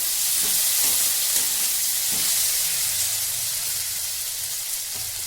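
Potato, eggplant and greens cooking in a pan, a steady broad sizzle and hiss with occasional soft stirring knocks, close and continuous without talk.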